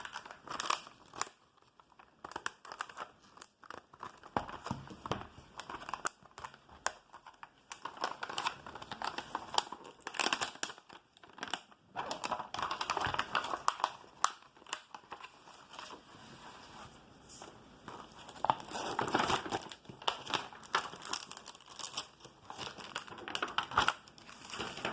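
Foil Yu-Gi-Oh booster pack wrappers are torn open and handled, giving off irregular bursts of crisp crinkling and crackling, some louder and some softer, close to the microphone and with no talking.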